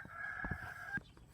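A rooster crows in one sustained, steady call lasting about a second, then breaks off, with scattered thumps and handling noise around it; fairly close and clear, no talking.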